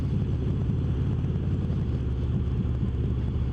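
Wind rushes steadily past a moving Harley-Davidson Road Glide Ultra, a constant low buffeting roar mixed with the motorcycle's muffled rumble, loud and continuous with no talk.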